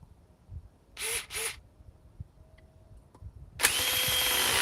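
A Metabo power drill driving fragile fasteners runs in two short bursts, then starts again and holds a steady, loud whine to the end.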